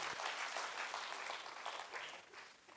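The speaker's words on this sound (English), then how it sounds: "Can I have a big round of applause for what is happening at KSS and our founder" An audience applauds at a national marketing conclave in a hall, a dense, steady patter of many hands clapping that fades slightly toward the end.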